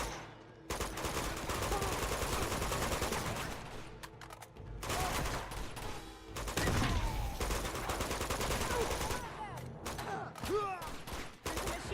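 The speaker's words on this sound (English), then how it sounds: "There's a machine gun over there." Dense bursts of machine gun fire and scattered gunshots in Uncharted 2: Among Thieves, loud and sustained with brief pauses between volleys, and a player's voice talking intermittently.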